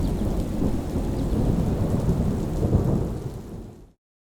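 Heavy rainstorm with rolling thunder in the mountains, a loud continuous roar of rain and rumbling thunder throughout, fading out abruptly near the end, with no voices.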